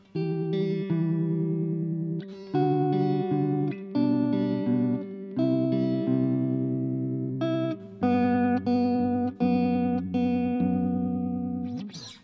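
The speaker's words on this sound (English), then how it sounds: "let's flip it over to the vibrato setting and see what that sounds like" Guitar chords and notes through the vibrato setting of an Electro-Harmonix Good Vibes pedal, a warbling pitch vibrato, played alone in a steady, sustained pattern with short gaps between phrases.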